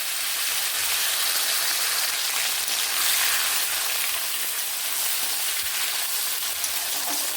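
Tomatoes fry with tempering spices in hot oil for a fish recipe, giving a loud, continuous sizzle that holds steady throughout with no voices.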